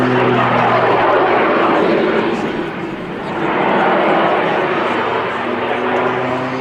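A Pitts S-2S aerobatic biplane's engine drones steadily through a summer air show display at Duxford, loud and continuous with a slight swell in the middle, while someone talks over it.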